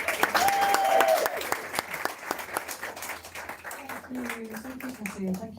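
Audience applause at a business book awards ceremony rises as a brisk patter of hands, fading toward the end as a person begins speaking over the thinning claps.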